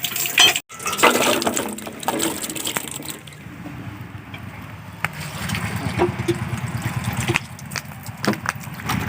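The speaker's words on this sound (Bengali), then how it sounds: "বন্ধুরা এবার আমরা কুলগুলোকে ভালো করে ধুয়ে নেব" Jujube fruits (kul) washed by hand in water in a village kitchen, with steady sloshing and splashing up close and a low engine-like hum underneath.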